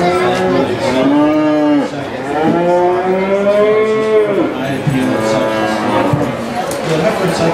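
Heifer calves moo repeatedly in a beef show barn at the 2013 Washington County Fair, loud and close, with long drawn-out calls overlapping against a busy barn background.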